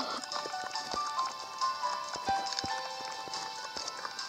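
Horse hooves clip-clop in the Wild Horse Islands video game, a quick, even patter of light hoofbeats over soft background music and chimes.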